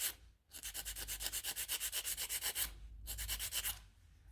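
Acrylic nail tips are filed by hand in long runs of quick, even back-and-forth strokes, loud and close, with a short pause and then a second burst of rhythmic scraping.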